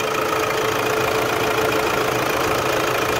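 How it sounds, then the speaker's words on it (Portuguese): A Toyota Hilux pickup truck engine idles steadily up close after fuel injector replacement, a constant low rumble with a faint knocking rhythm and no voices. "Olha aí o funcionamento do motor"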